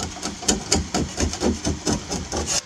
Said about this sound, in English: I gotta scrape this caulk off there